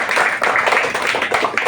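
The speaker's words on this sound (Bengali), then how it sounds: "ওর জন্য জোরে একটা হাততালি দাও।" Children in a school classroom clap for a classmate who just told a story, a dense, steady burst of many small hands close by, with no talk over it.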